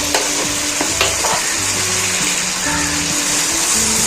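Egg tomato masala fries in a pan as green chilies are stirred through it, a loud, close sizzle with repeated stirring scrapes and a few clinks, no talk.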